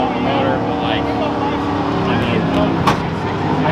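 A home-assembled Ford F100 engine with water in the engine bay idles in a rumbling, continuous drone while a person talks over it throughout.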